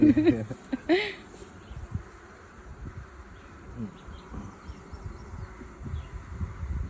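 Honeybees hum steadily around an open nuc hive during an inspection, a close, continuous buzzing drone with a brief voice and light handling noises near the start.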